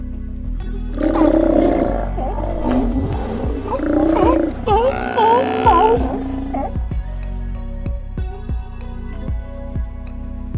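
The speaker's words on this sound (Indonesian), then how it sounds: "Ini adalah singa laut." A sea lion calls in a series of loud, close, gargling roars and barks lasting several seconds, then the calling stops and a quieter background follows.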